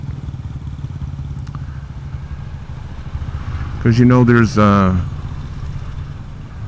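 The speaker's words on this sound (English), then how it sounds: "A lot of traffic and a lot of people walking around." Busy street traffic in Metro Manila, a steady close rumble of engines and motorcycles with clatter, heard under someone talking.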